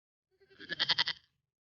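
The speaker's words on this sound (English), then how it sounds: "It's a goat." A goat bleats once, a short wavering, pulsing cry rising and fading, clear and alone against silence.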